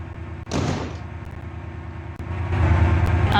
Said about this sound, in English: The doors, just like the HST, if you'll hear the bang now.